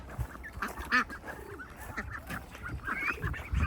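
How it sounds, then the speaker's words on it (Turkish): A flock of crested ducks and geese honking and quacking close by, scattered calls overlapping in an irregular chatter. "Bak bunlar ördekler. Pomponlu ördekler."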